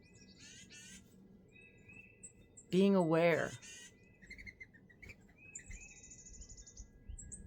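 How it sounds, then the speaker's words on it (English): Songbirds chirp and tweet in short, high bursts scattered throughout, faint and somewhat distant, while a voice speaks softly over them partway through. "the bird song"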